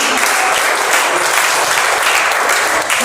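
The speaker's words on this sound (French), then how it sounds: "applaudissez le Seigneur." Loud, close applause from a congregation during a church worship and praise service, a dense and even clatter of hands held steady throughout.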